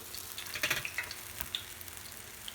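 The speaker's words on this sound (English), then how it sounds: "I want you to continue to fry the rest of your batch" Green tomato slices frying in a pan give a quiet, close sizzle scattered with small crackles and pops over a low hiss, with no talk.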